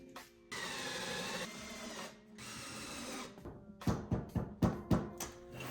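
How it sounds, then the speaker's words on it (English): A power drill drives a screw with a washer into wood, opening with two sustained whirring bursts, then a series of short stuttering pulses and thunks as the screw seats, up close with no talking. "I guess I'll just screw it in."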